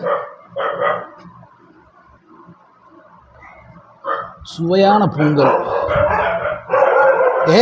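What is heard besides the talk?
dog barking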